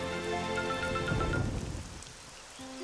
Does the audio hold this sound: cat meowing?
no